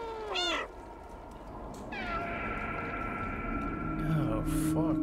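In the video game Stray, several cats meow and yowl: a brief high cry, then longer wavering meows overlapping one another, with low drawn-out calls near the end, all over a steady ambient drone.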